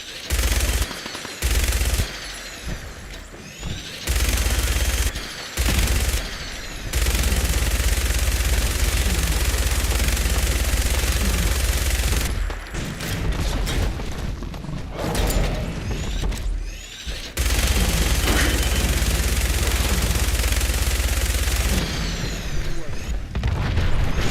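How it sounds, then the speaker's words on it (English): Gunfire aimed at a Deathclaw in Fallout 4, heard as loud, sustained bursts of shooting with deep booms and mechanical clatter. Short breaks of near-quiet split the firing, and game noise fills the gaps. "Concentrate my fire on the Deathclaw."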